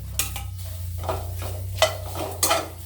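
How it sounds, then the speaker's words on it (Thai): Pounded chili, galangal and kaffir lime leaves dry-roasting in a pan, a faint crackle beneath a few scraping strokes of a spatula and light clinks of metal, close by, over a low steady hum, with no voices. "คั่วพริกที่คมพันตำไว้ค่ะกับข่า ข่าแล้วก็ใบมะกรูด"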